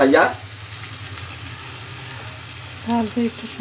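Onions fry in a pan with a soft, steady sizzle, and brief voice-like fragments surface at the start and near the end.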